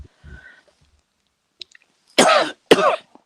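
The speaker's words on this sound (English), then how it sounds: "can get rid of my cough" Two sharp, harsh coughs in quick succession, close and loud, following a few quiet shuffling noises and a faint murmur.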